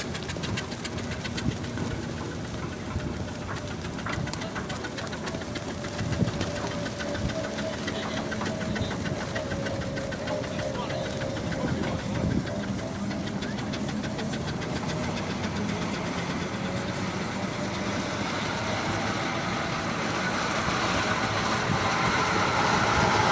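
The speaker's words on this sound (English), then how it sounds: "steam engine from Bellingham" A steady mechanical chugging and knocking of a steam engine running continuously at a steam rally in Corbridge, moderately loud, with no talking.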